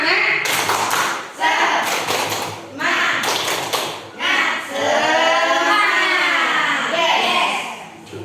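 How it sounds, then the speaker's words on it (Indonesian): A group performs a rhythmic spirit clap during a teachers' dissemination session, with close, loud bursts of patterned clapping separated by short pauses and voices chanting along in the later part. "Yuk, tepuk semangat."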